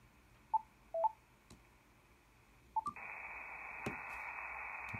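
Faint static from a KX3 radio receiver hisses quietly, with a few short beeps and clicks, then the hiss jumps louder as the preamp switches on and stays steady as a broad noise floor.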